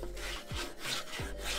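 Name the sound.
sanding body filler with 80-grit sandpaper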